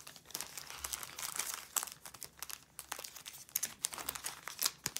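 A 2018-19 Panini Prizm card pack wrapper is torn and crinkled open up close, a busy run of crisp plastic crackles and rustles lasting several seconds, no voices.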